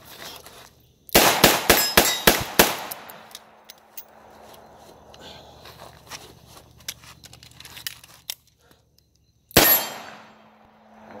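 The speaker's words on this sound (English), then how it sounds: "We're gonna fire till we're dry, speed, reload, fire one." A revolver fired rapidly until empty, about six sharp loud shots in quick succession, then a pause filled with faint metallic handling during a speed reload, followed by one more single shot.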